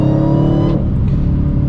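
A Dodge Challenger Hellcat pulls hard from a 60 mph roll, its supercharged engine roaring loud and steady with a deep, sustained drone and a slight shift in tone partway through, with no talking.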